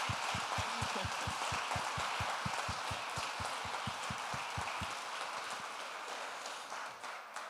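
At a closing session, an audience applauds the host, broad crowd clapping mixed with a sharp, evenly paced rhythmic beat for about five seconds, then the clapping carries on alone and slowly thins.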